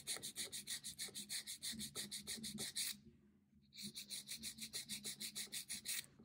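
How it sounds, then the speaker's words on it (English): Nail file rasping on acrylic nails of a practice dummy hand, quick rhythmic back-and-forth strokes close up, with a brief pause mid-way before filing resumes. "I want to be able to see the top of my file as I'm filing"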